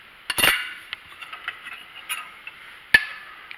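Filé powder being stirred into a pot of chicken okra gumbo gives off a few sharp clinks of a utensil against the pot, spaced out over a quiet background with one louder knock near the end.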